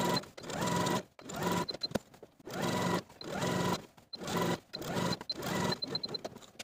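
A sewing machine stitches fabric in short close bursts, running about a second at a time with brief pauses between, a busy whirring clatter with no voices.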